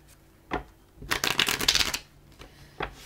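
Tarot cards being shuffled close up, a couple of soft taps followed by a dense riffling burst of about a second, then another light tap.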